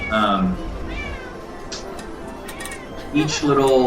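A cat meows several times in the Pixel Ripped VR arcade setting, short bright calls at the start and again near the end, with a person talking through much of it.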